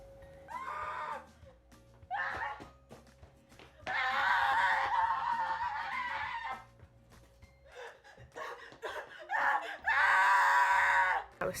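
A person screams on command for a film, in a garage, letting out repeated loud, shrill bursts with short pauses between them and a few breathy, laugh-like sounds.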